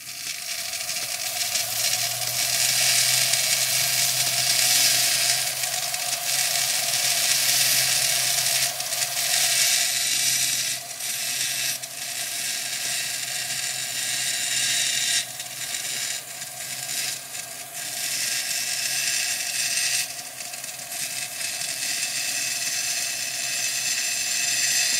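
A high-speed rotary tool carves Deer Creek fire agate, a sustained high whine with grinding hiss and intermittent scratchy bursts as the bit bites the stone, steady and close for the whole stretch, no voices.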